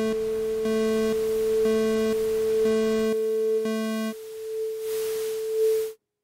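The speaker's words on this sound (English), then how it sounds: "we've got a sine wave and some noise." Dials iOS app test tone: a steady sine wave holds throughout with pulsing harmonic tones and hiss layered over it, the harmonics dropping out partway and leaving the pure tone with noise before it cuts off.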